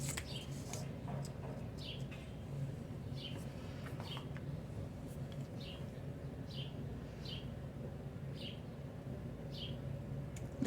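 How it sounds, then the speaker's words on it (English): Faint bird chirps repeat at regular intervals in the distance over a low steady background hum. "Listen to those birds."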